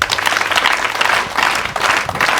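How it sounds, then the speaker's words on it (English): Steady applause from a school audience of students, parents and leaders clapping for the staff, dense and continuous throughout with a faint voice underneath. "to clap for the staff."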